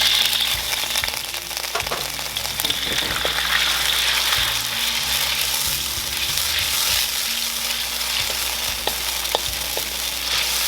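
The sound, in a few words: white wine added to crawfish sizzling in pan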